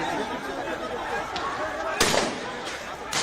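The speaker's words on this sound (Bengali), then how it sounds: "গুলির শব্দ হচ্ছে আমরা শুনতে পাচ্ছি" Sharp cracking gunshots at a distance, a few sudden reports punctuating a noisy background of crowd chatter during a clash between student protesters and police outside a press club.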